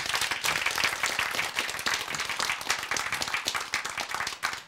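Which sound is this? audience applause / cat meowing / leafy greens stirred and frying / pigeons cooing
audience applause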